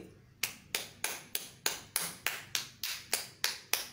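A single pair of hands claps about a dozen times in a quick, regular beat, each sharp smack close by and fairly quiet, set against a faint room hum with no voices.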